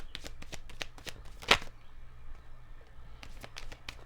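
Rider-Waite tarot cards are shuffled by hand at close range, a run of quick riffling flicks with one louder snap, a short pause, then more shuffling.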